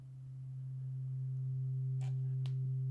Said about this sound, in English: So let's just bring in some sine wave.